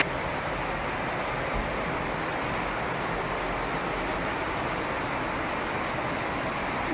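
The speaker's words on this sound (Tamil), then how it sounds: "நல்ல மழை சென்னையில்" Steady, dense rush of heavy rain in Chennai, a constant broadband hiss with no pauses or voices.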